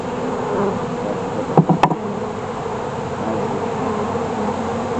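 Honeybees swarm over an open hive during a frame inspection, a dense steady buzzing hum filling the scene, with a couple of brief sharp knocks partway through.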